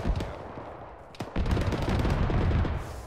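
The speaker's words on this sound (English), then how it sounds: "Autocannon east southeast." Autocannon fire in Arma, heard as a rapid string of booming shots with a brief gap, then a sustained rumbling burst. The sound is heavy and reverberant and plays with no speech.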